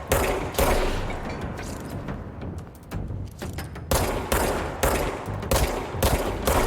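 Rifle fire from enemy soldiers in the video game Control, loud bursts of gunfire in rapid clusters, with a quieter lull in the middle before heavy shooting resumes in repeated volleys.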